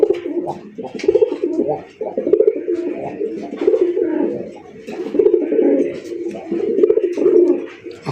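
A male Madrasi Golla pigeon coos close by, repeating throaty, rolling phrases in a steady rhythm with short pauses between them.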